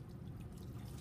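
Water from a tap rinses a Gram stain slide with a soft, continuous low trickle and splash, faint and steady, heard alone.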